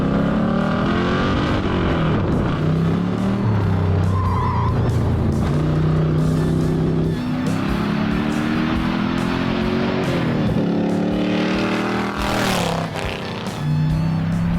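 A no-body track car with a 590 hp LS engine runs hard on a circuit, its loud engine note rising and falling through gear changes, with tire squeal and skidding, continuous and close.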